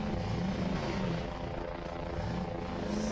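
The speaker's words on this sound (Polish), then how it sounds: "Ej, dron leci." A drone flies overhead in the video game Voices of the Void, giving a loud, steady whirring rotor hum that fills the whole stretch without pause.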